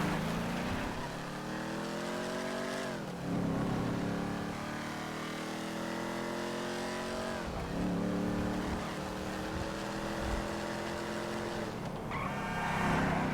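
A car engine in GTA V drives hard, loud and close, climbing through the gears with repeated rising revs and shift drops, nearly continuous for the whole stretch.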